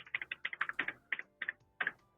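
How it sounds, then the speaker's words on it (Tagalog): Computer keyboard keys clack in quick irregular bursts of close, crisp strokes with short pauses between them and no talking. "Ang ingay ng keyboard mo"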